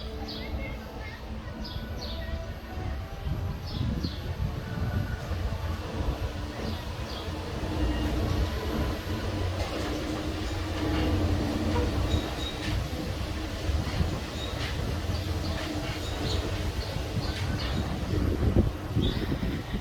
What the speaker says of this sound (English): The monorail!